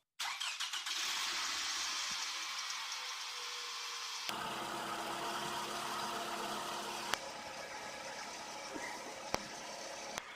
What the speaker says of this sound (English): I just start the car and just let it run until it runs out of injector cleaner